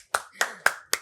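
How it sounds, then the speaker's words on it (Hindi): Audience applause on a talk show, four sharp claps spaced evenly, close and loud, with silence between. "वो भाइयों तालियां"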